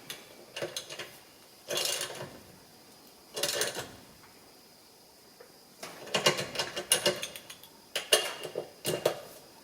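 A ratchet tightens compressor bolts, with short bursts of metallic clicking separated by pauses, coming close and fairly loud, the later bursts quicker and more rapid.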